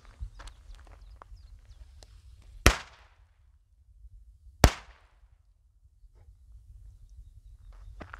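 Two sharp, loud firecracker bangs go off outdoors during a firework outing in the Czech Republic, spaced about two seconds apart, with a quiet rustling background and scattered faint clicks between them.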